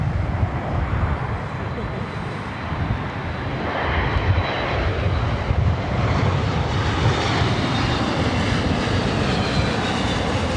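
An airplane at LAX airport in Los Angeles, with a loud, steady broadband engine roar that swells slightly midway and holds, while faint talk sits underneath.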